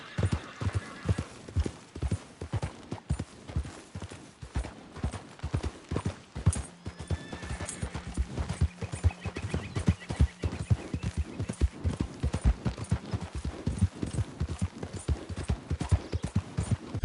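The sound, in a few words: horse hooves clip-clopping while ridden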